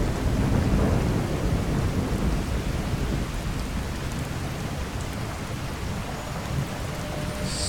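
Dense rain hammers down with low, continuous thunder rumbling through a Fallout 4 storm from the True Storms weather mod, loud and unbroken, easing slightly after the opening seconds, with no voices.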